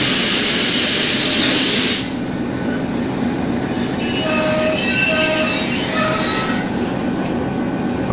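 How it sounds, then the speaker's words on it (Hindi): A train on the single-line Lahore to Rawalpindi railway route brakes to a stop, its wheels letting out a loud, piercing, sustained metallic squeal with shifting high tones under a heavy rumble. "हाँ जी ट्रेन रुक चुकी है।"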